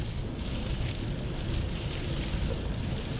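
Steady rain pours down during a thunderstorm, a dense continuous hiss and patter with low rumble underneath, constant and fairly loud throughout with no speech.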